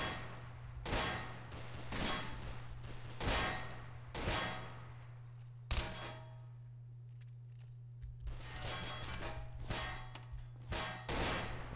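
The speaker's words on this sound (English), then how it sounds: "There's too much fucking shooting." Repeated sharp gunshots and bursts crack through a Garry's Mod DarkRP base attack, loud and irregular over a steady low hum, with a quieter lull midway before rapid shots resume.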